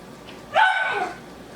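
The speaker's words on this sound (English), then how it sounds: "And there goes the schnauzer. It's time for her to bark." A deaf schnauzer lets out a single loud, close bark in a quiet kitchen, short and sharp with a brief tail.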